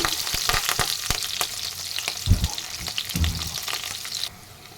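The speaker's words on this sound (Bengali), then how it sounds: "আমি ক্যাপসিকামগুলো খুব একটা ভাজবো না আর এটা কিন্তু আমি হাই ফ্লেমেই ভাজছি" Diced capsicum fries on a high flame, a steady close sizzle broken by stirring scrapes and a couple of louder knocks before the sizzle drops away near the end.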